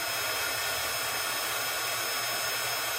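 A craft heat tool used for embossing blows a steady, even whoosh of hot air, loud and constant for the whole stretch with no talking.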